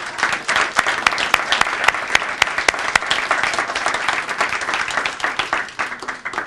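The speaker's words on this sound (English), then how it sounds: "Let's give you another round of applause." Steady applause from an audience at a community partnership event, dense clapping throughout without a break, with faint crowd murmur underneath.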